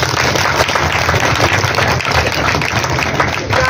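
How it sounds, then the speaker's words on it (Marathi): Loud, dense applause from a crowd at an outdoor folk song concert during a book festival, steady clapping filling the whole stretch without pause. "जोरात टाळ्या वाजल्या."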